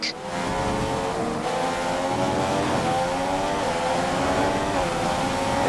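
Race cars in the F1 2016 video game at Malaysia, the player's engine screaming loud and continuous with rising and shifting pitch while trying to overtake another car, no talking.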